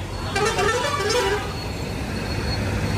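A bus pulls away on an Indian road, its engine rumbling nearby as a series of rapid horn toots sound over passing traffic noise.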